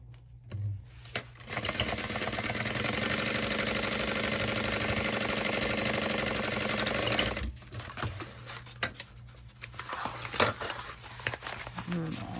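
Home sewing machine stitching a half-inch seam on a Lucy mini tote bag, a steady whirring run of about six seconds, close and loud, followed by softer handling clicks and rustling.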